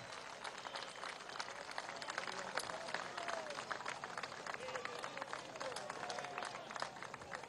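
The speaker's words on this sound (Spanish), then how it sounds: "Darío, un aplauso a Darío" A crowd at a Caracas rally on Avenida Bolívar breaks into sustained applause and cheering, a dense, steady patter of clapping with whistles and shouts running throughout at moderate distance.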